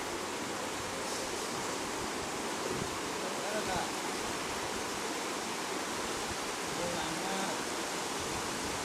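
Strong floodwater rushing along a street in flooded Mae Sai, Thailand, a steady broadband roar of flowing water that continues without a break throughout the clip.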